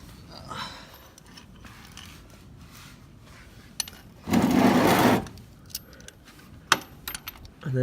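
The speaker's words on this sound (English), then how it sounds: "And then just tighten the bolt down snug." A ratchet snugging the oil drain bolt on a 2004 Honda Rancher 350 4x4 ATV, a quiet clicking with one short rapid burst of ratcheting in the middle and scattered light clicks and handling noises around it.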